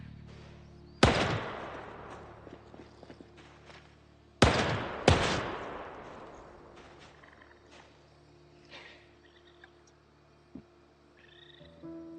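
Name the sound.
gunshots in Project Zomboid video game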